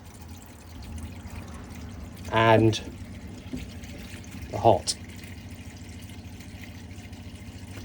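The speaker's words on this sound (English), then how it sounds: "I should be able to draw water through on the cold" Water runs steadily from the cold tap at the sink of a Rapido 987M motorhome, fed by its electric water pump, making an even, continuous hiss with two brief bursts of speech over it.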